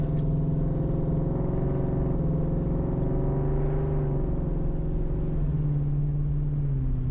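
A Foxbody Mustang with a Coyote V8 swap idles while warming up, a steady, deep, even engine drone held close and continuous, with a slight pitch shift partway through and no speech.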